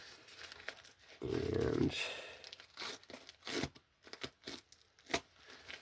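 Mail package being cut open and torn, with a loud close rip followed by crinkling and rustling of packaging under a voice.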